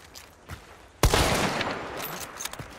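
Avtomat rifle fire in Hunt: Showdown 1896, faint shots early on, then a loud sudden burst that rings out and decays into a few scattered, quieter cracks.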